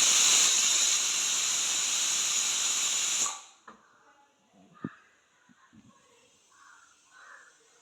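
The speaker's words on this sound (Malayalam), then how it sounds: "പിന്നെ ഇനി അടുത്തതും കൂടി വീണ്ടും ഞാൻ കുക്കറിലിട്ടിട്ട് വേവിച്ചെടുക്കുന്നുണ്ട്." A pressure cooker hisses loudly and steadily as it cooks beef legs, then the steam cuts off abruptly after about three seconds, leaving faint kitchen clatter and soft knocks.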